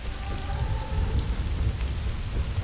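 Dense, steady rainfall in Hitman: Blood Money, a continuous close hiss of drops on surfaces with a faint low rumble underneath and no talking.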